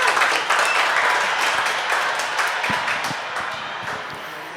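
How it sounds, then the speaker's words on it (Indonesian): Audience applause at an Indonesian community talk event, a dense wash of many hands clapping that stays loud and steady, then tapers slightly toward the end with no talking over it. "Boleh kita tepuk tangan untuk Faye Favi."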